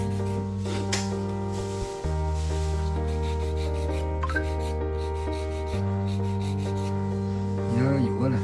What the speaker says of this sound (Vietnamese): để nghiêng vô mình giũa tới giũa lui, đẩy tới đẩy lui thôi là xong rồi